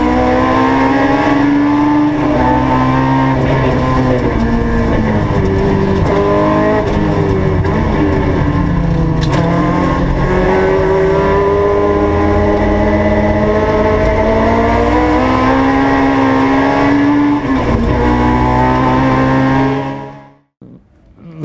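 Race car engines scream from inside a car during a racing festival with a full grid of 46 cars, revs rising and falling through gear changes for about twenty seconds before cutting off abruptly.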